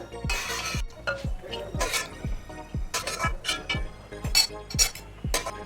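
Repeated scraping and clinking of a metal spoon against a pan as roasted cashews and coconut are moved onto a plate. Quick, irregular strokes sound close in a home kitchen.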